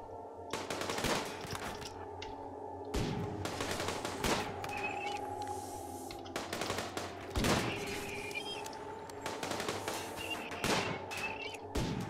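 RimWorld colonists open fire on a mechanoid, with repeated bursts of gunfire and rapid machine-gun volleys rattling across the battlefield. Sharp shots come in clusters over a steady mechanical hum, loud and close.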